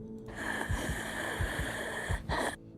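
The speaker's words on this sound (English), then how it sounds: "that heavy breathing is just terrifying" Heavy, ragged breathing inside a Golden Freddy animatronic suit from the FNAF Into the Pit game trailer, a steady hiss with several deep rasping pulses and snorts, close and loud over a dark ambient hum.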